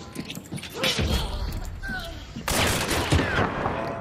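Rapid gunfire from the video game Hunt: Showdown, a dense burst of shots and booms with a second louder volley midway, heard close over game noise with voices talking.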